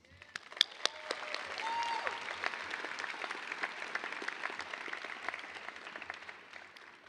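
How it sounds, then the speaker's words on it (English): Graduation audience at a high school ceremony breaking into applause, a fairly faint, spread-out clapping that swells and holds, heard from a distance with a few sharper individual claps. "that in itself deserves a round of applause"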